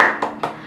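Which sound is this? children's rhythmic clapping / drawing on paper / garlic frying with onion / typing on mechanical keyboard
children's rhythmic clapping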